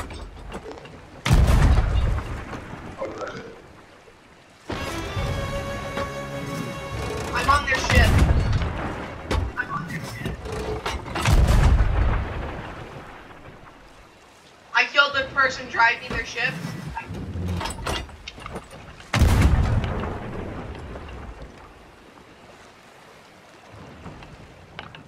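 Pirate ship cannons fire several heavy, booming blasts at irregular intervals, mixed with mechanical clanking and creaking while people talk throughout.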